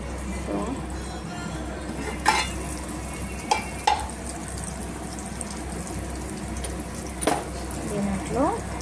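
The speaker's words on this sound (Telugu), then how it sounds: "దీంట్లో అల్లం వెల్లుల్లిపాయ ముద్ద వేసేస్తాం." Ginger garlic paste frying in a pan for Telugu fish curry, a steady sizzle running throughout with a few sharp clinks of a utensil against the pan, quiet kitchen background.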